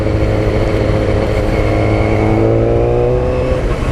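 A superbike or supermoto ridden on a group Sunday ride, its engine held at steady high revs as the throttle is opened, loud and close with a continuous droning roar and no voices.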